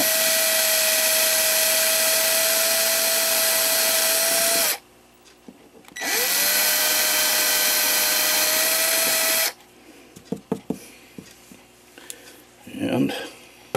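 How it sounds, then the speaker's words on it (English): A power drill whines at a steady high pitch in two long bursts separated by a pause, drilling out worn bushings in a Regula 25 clock movement, followed by quieter clicks and handling noises. "I'm going to drill those out."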